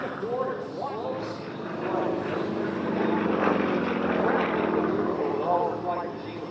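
Stainless steel aerobatic airplane slowing to near-zero airspeed at the Oregon International Air Show in McMinnville: a sustained, fluctuating propeller drone heard from a distance, swelling and easing, under an announcer's commentary.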